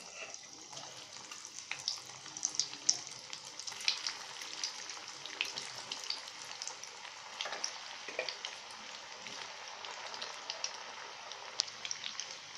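Balls made from leftover bread and vegetables fry in hot oil with a constant close sizzle, speckled with sharp pops and crackles throughout.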